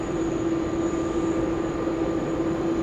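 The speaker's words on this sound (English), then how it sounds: "I've got the special Indigenous livery 737 pushing" A Boeing 737 in a special Indigenous livery pushes back at Brisbane Airport, giving a loud, steady engine drone with a constant tonal whine and no voices.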